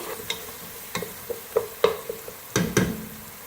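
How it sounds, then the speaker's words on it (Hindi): Chicken with onions and ginger-garlic paste frying in a pan, a soft sizzle punctuated by repeated scraping, knocking stirs of a spoon, louder toward the end, with no speech. "इसको प्याज के साथ फ्राई करेंगे। साथ ही हम चिकन भी शामिल कर देंगे।"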